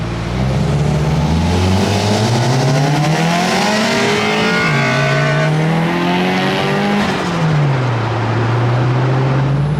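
A sports car engine bounces hard off its rev limiter, a loud, close, stuttering buzz with rising and falling pitch that continues unbroken through the whole stretch, with no voices.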